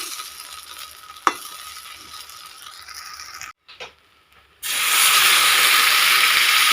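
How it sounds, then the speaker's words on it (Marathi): Water is poured into a hot kadhai holding rice for khichdi, cutting in with a sudden loud, broad hiss and sizzle after some quieter stirring and a short silent gap. "आता ह्यामध्ये पाणी टाकून घेणार आहे मी"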